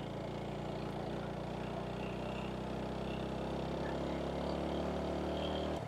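A vehicle engine labours up a steep hill road toward Keokradong in Bandarban in first gear, a steady, heavy low drone held at near-constant revs for the whole stretch.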